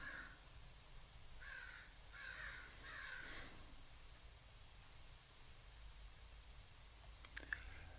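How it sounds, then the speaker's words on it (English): Crows cawing outside a small broadcast house, their harsh calls arriving in several short clustered bursts, fairly distant and moderately faint over a steady background hiss, with no one talking. "The crows outside my little broadcast house are alive. They're hungry."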